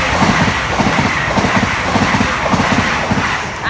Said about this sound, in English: the first train's from the left